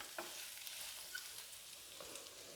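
A spoon stirs idli dosa batter with finely chopped cilantro in a pan with the stove switched off, giving soft, close, continuous scraping and swishing with faint clicks.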